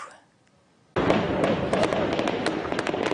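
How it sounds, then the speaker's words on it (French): Loud, dense burst of heavy gunfire and explosive blasts from news footage of an attack on a shopping centre in central Nairobi, erupting abruptly after near-silence and continuing as sustained rapid cracks and thuds. "Des tirs nourris, une forte explosion, des scènes de guerre et de panique en plein cœur de Nairobi."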